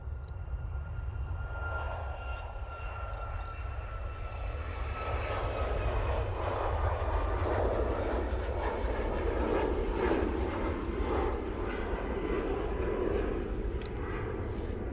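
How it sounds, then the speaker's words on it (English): A Boeing 737 MAX 8 departs Manchester Airport bound for Sharm el Sheikh, a sustained jet engine roar that swells louder midway and holds as a broad, steady rumble at a moderate distance. "737 MAX 8 departing off to Sharm el Sheikh there"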